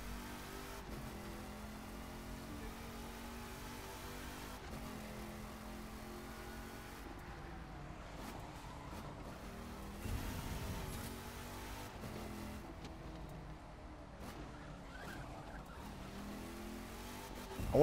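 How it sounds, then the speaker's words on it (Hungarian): Car engine revving and tires skidding on sand in the racing video game The Crew 2, a continuous drone with shifting revs and brief squeals, fairly quiet and with no talk. "Nem megy a homokon az autó."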